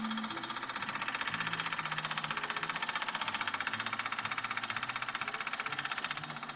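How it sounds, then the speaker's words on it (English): A vintage Wilesco toy steam engine, sterno-fired and from around the mid-1950s to early 1960s, runs steadily with a fast, even mechanical chuffing and ticking. It is quiet and close, with no voices over it. "it's the Wilesco sterno-powered vintage steam engine"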